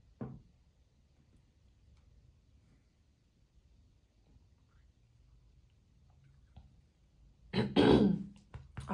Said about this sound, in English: Must be so annoying as the viewer hearing me constantly clear my throat